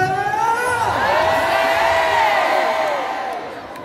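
A large concert crowd at the Zénith de Paris cheers and shouts loudly and steadily, many voices whooping together in a big indoor arena, fading slightly at the end.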